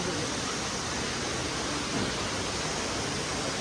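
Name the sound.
waterfall, Jalagamparai falls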